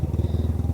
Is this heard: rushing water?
no